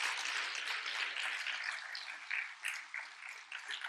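A congregation in a Korean church service applauds steadily, a dense wash of clapping that holds for several seconds before gradually thinning out.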